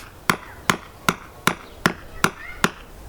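Seven sharp, evenly spaced hammer blows ring out about every 0.4 seconds in a garden, each a crisp close strike with a short decay and no voices.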